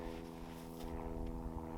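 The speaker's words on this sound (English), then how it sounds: "an airplane going over" A propeller airplane drones overhead on a clear winter day above a frozen lake, a steady low hum with tonal harmonics lasting throughout, moderately loud and unbroken.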